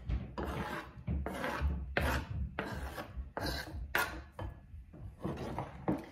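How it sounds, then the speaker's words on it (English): Cheddar cheese rubbed on a big hand grater for a salad, a series of about eight rhythmic rasping strokes at close range, each a short scraping burst with brief pauses between. "Now I grate cheese"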